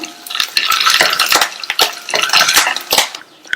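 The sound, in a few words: roasting peanuts and curry leaves in oil, stirring pan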